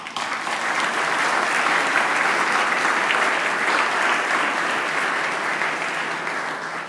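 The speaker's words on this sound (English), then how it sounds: "so please, a round of applause" Dense, sustained applause from a festival awards audience fills the room, steady and loud throughout with no gaps, easing slightly near the end.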